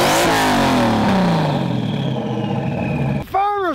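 A modified, ethanol-fueled car with a rerouted exhaust revs at an outdoor car meet: one loud, close rev whose pitch sweeps down as it settles, followed by a brief burst of voice at the end.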